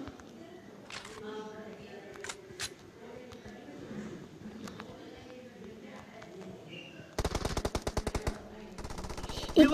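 Rapid automatic gunfire from PUBG erupts in dense bursts late in the clip, following quieter in-game ambience and scattered shots, with a loud burst at the very end.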